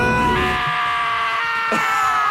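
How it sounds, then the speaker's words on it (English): A scream in the video game Danganronpa: Trigger Happy Havoc, a loud, strained, tonal cry that drops off partway through, then a second shorter shriek near the end, with no talk over it. "Hey, I heard screaming."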